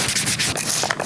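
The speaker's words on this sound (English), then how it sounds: "Then now I'm going to sand it. This is the 3M sanding pad water" Close, continuous scratchy rubbing as a 3M wet sanding pad is worked over a small cast resin figure, in quick strokes.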